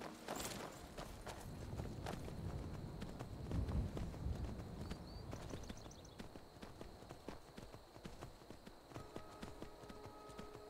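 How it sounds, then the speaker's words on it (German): Horse hooves clip-clop at a steady walking rhythm on the ground in the video game Skyrim, close and fairly loud for most of the stretch, with occasional faint game sounds and no speech. "Da ist mein Pferd."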